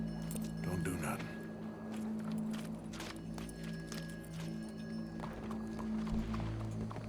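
Horse hooves clip-clop steadily in Red Dead Redemption 2, moderately close under a continuous bed of game ambience and music, with voices talking over them.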